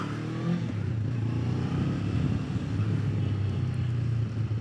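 A Honda CB500X motorcycle on the move gives a steady low engine drone with wind rush, held at an even loud level throughout.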